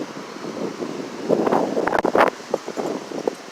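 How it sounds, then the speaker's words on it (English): Strong wind of about 20 miles per hour roars and buffets across the microphone outdoors at sunset, rising into gusty rustling bursts partway through, with no voices. "20-mile-an-hour winds right now."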